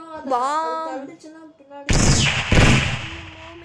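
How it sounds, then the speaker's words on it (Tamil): Two heavy bomb blasts in the Stumble Guys video game, loud, booming bursts about half a second apart, following a brief wavering voice-like tone. "எவனோ பாம்பு போட்டு இருக்கிறான்."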